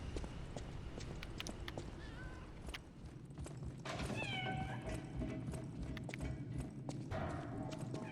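Cat meows in the video game Lies of P, a few short rising tonal cries set against a busy, steady game backdrop of footsteps and ambient noise, moderately loud.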